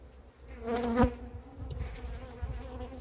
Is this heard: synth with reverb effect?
no